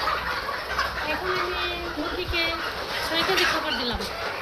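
Chickens on a poultry farm make a dense, continuous chatter of clucks and squawks. Background voices murmur faintly throughout.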